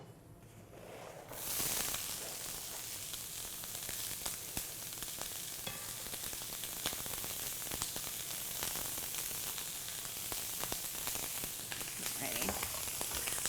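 Onion and garlic sizzle steadily in hot olive oil in a pan, a continuous close frying hiss that starts abruptly after a brief quiet moment and holds at an even level, with faint stirring underneath.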